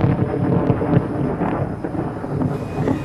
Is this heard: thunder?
yes